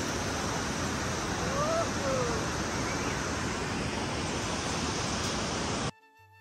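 A waterfall near a suspension bridge on a Himalayan trek in Nepal roars as a steady, broad rush of falling water, loud and constant for about six seconds before cutting off abruptly.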